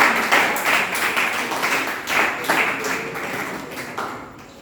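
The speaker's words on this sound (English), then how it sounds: "Give him a big round of applause." A small group of people claps for a correct quiz answer, uneven, fairly close handclaps that taper off over a few seconds.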